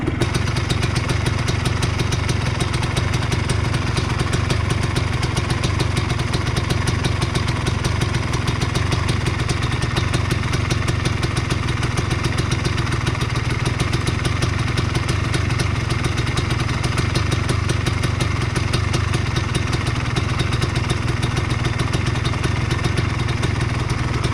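A 2001 Yamaha Blaster YFS200 two-stroke ATV engine runs continuously for the whole stretch, a loud, steady, buzzy drone with rattly clatter, close and without pauses.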